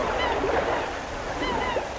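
Sea waves wash and hiss steadily at Aenggang Bay on the Korean coast where a stream meets the sea, a continuous moderate surf with soft swells.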